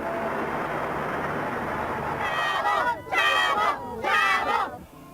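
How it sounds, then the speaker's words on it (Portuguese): Football supporters of América chant in unison inside their club's stadium during a funeral wake, a dense crowd roar that swells into loud rhythmic bursts of cheering toward the end. "ao som do grito de uma única torcida"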